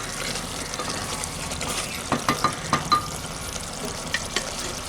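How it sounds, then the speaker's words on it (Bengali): Fried potatoes go into mutton frying in a pot, bringing a steady sizzle with a short run of clanking stirs and scrapes partway through. "এখন আমি এর মধ্যে ভেজে রাখা আলুগুলোকে দিয়ে দিচ্ছি"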